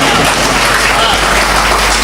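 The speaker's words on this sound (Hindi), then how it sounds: "एक बार जोरदार तालियां बजाएं आप सब" Loud, dense applause from a poetry recital audience, a steady wash of many hands clapping close and continuous throughout, with no pauses.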